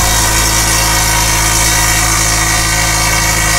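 A Viair 480 air compressor fills an empty tank in a steady, loud, dense mechanical whine and rattle, holding an even drone with no pauses and no talk.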